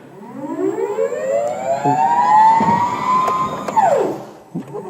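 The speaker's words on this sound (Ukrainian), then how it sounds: "Включаємо звичайний режим, от подивіться, як він їде." An electric Royal Forklift S16L-T in normal speed mode gives a loud electric motor whine that climbs steadily in pitch as it drives, then drops sharply as it slows, with some clunks and rattles.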